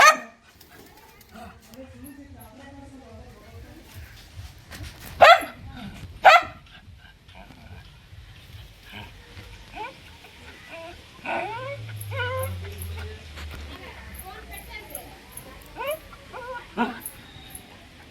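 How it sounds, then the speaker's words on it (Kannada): A pet dog barks and whimpers on a trip to Mantralayam, with a few sharp barks standing out amid softer whines and yips over a low background hum. "ಪಾಪ ಎಲ್ಲೋ ಹೋಗ್ತಾವ್ರೆ ಅಂತ ಅಳ್ತಾ ಇತ್ತು ಸುಮ್ಮನೆ ಬೊಗಳ್ತಾ ಇತ್ತು"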